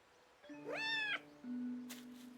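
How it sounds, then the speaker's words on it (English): A house cat gives two clear meows in quick succession, the first rising and falling in pitch, the second shorter, close and fairly loud in a quiet room. "That's the cat you took in Fukuhara,"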